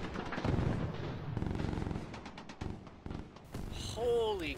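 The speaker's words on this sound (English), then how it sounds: "Stuff is still exploding." Explosions and gunfire in an Army Men video game battle for a city, dense bursts and booms rolling over each other, ending with a whistling, warbling sound effect.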